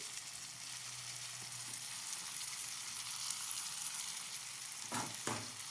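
Tomato pieces dropped into fried onions and curry leaves in a hot pan for a cauliflower and egg curry, giving a steady close hiss of sizzling oil, with a couple of brief stirring scrapes near the end.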